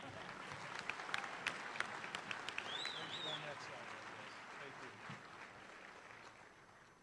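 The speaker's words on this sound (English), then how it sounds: "Let's give them another round of applause." Audience applause at a university graduation ceremony, a crowd clapping with dense claps and scattered sharper hand claps, fairly faint and steady, fading slightly, with a whistle-like tone midway.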